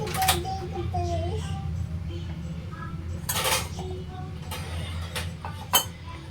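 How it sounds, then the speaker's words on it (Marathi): A kadhai is set down on a gas stove in a home kitchen while kurdai bhaji is being made: a few brief metallic clinks and clanks, near and fairly quiet, beneath voices talking. "मी कढई गॅसवर ठेवलेली आहे"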